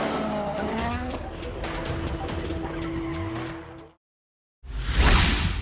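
A GT3 race car in the racing game Assetto Corsa Competizione screams past with loud engine revs and squealing tires, then cuts to brief silence before another burst of roaring engine noise.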